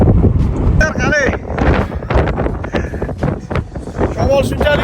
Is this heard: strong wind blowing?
yes